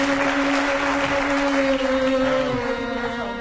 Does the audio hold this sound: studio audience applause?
yes